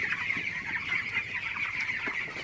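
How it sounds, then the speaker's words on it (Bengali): A flock of 21-day-old broiler chickens clucks and chatters continuously in a shed, a steady dense din of many birds with occasional louder calls. "তো আপনারা দেখতে পাচ্ছেন আমার ব্রয়লার মুরগির পুরো শেডটা"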